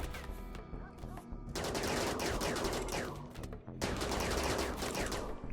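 Base turrets in RimWorld hammer away at a raiding horde in two long, dense automatic bursts separated by a brief lull, loud and continuous.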